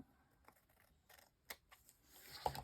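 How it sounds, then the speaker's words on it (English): Scissors cut paper while crafting an envelope folio, with faint, close snipping and crisp slicing sounds in a few short irregular bursts against a quiet background. "Let's cut this off. And I'm kind of angling my scissors out a little just so I don't cut my envelope."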